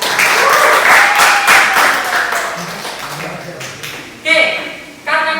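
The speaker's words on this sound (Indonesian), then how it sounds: "Tolong berikan tepuk tangan kami" A high-school class applauds, clapping that fades over a few seconds while voices mix in, followed by two short bursts of sharp, close taps or claps.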